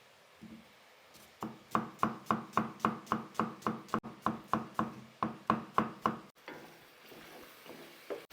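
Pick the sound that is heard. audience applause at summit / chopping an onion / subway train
chopping an onion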